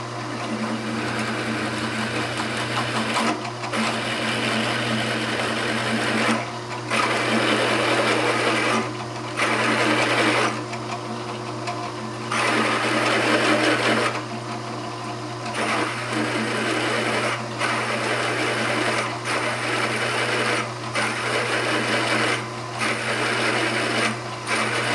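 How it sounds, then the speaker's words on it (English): A milling machine drills into metal for a replica of Henry Ford's first engine, a steady loud whir broken by regular short pauses and changes as the drill bit is backed off to break the chip, running alone for the full stretch. "I keep backing the drill bit off to break that chip"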